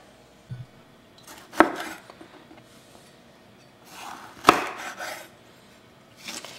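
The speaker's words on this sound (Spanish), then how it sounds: "Después de la cebolla voy a cortar el chile jalapeño." A knife strikes a cutting board while cutting a jalapeño chile pepper: two sharp, separate chops a few seconds apart, close and crisp, with quiet pauses between.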